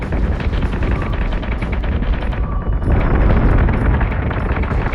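Continuous rumbling booms and blasts of ship weapons fire in a space battle in the Battlestar Galactica Deadlock video game, loud and dense throughout with no pauses.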